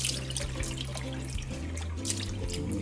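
Tap water runs steadily into a sink while raw shrimp are rinsed for shrimp fried rice, a continuous close splashing stream with faint drips, no talk.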